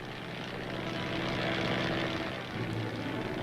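Army propeller planes drone steadily overhead above rugged Korean mountains, a continuous loud engine roar with a slight shift in pitch near the end and no voices.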